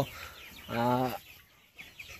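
Sonali chickens give a single short, clear cluck at close range, followed by a few faint scratchy sounds in a quiet setting.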